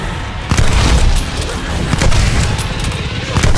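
Grenades explode in a Call of Duty Vanguard zombies match, a run of loud, heavy booms and crashing bursts in close succession mixed with rapid gunfire, filling the whole stretch.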